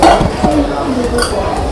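Metal cookware clinks and clatters onto a stove top in a home kitchen while a rice and vegetable dish is prepared, a few close, sharp knocks with a voice speaking over them.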